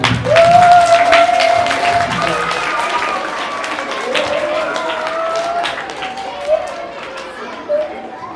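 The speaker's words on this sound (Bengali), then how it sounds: "সবাই একটু জোরে হাত তালি" Audience applause after a Baul song performance at a Ramakrishna Math gathering, scattered clapping under a held voice and crowd chatter, fading toward the end with a couple of louder claps.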